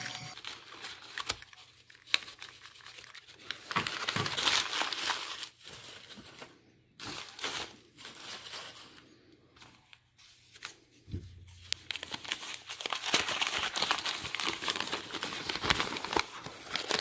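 Paper and plastic wrapping from a Christmas package holding lock and key items crinkles and crackles close by in intermittent bursts and rustles, with quiet pauses between handling sounds.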